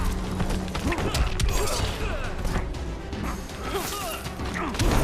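Firework attack landing in the fighting video game Injustice 2, a burst of crashing, crackling impacts and whacks amid busy game effects, moderately loud and dense throughout.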